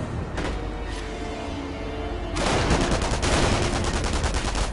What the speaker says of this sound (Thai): เฮ้ยกระสุนเยอะเนาะยิงกูอยู่ได้เนี่ย